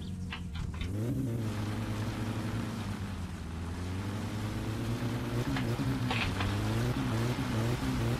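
A car engine in My Summer Car revs and strains at a steady, loud, droning pitch that rises and falls throughout, heard close with no voices.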